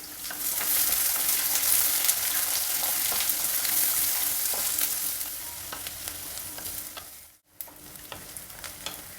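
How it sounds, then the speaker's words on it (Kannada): Chopped onion and garlic fry in a pan for betel leaf chitranna, giving a steady, close sizzle with scraping stirs. The sizzle fades briefly near the end, then a few sharp clicks follow. "ಈರುಳ್ಳಿ ಬೆಳ್ಳುಳ್ಳಿ ಎಲ್ಲ ಚೆನ್ನಾಗಿ ಫ್ರೈ ಆಗಿದೆ"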